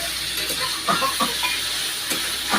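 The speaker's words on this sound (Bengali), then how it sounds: "এই তো এখন মাছটা দিয়ে দিব" Fish dropped into a hot pan of spiced masala sizzles with a steady hiss, close and moderately loud, with a few soft stirring clicks and no talking.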